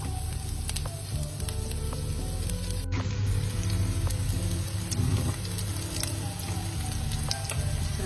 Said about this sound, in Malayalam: ഞാൻ നിങ്ങൾക്ക് നന്നായി സോട്ട് ചെയ്തെടുക്കുകയാണ്